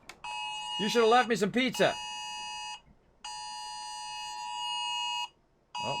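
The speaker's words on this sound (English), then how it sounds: "Thanks for the emergency alert there, phone." A phone's emergency Amber alert tone blares in long, loud, steady bursts with brief gaps, following a voice that speaks over game audio from Stardew Valley.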